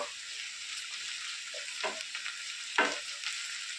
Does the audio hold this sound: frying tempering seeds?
yes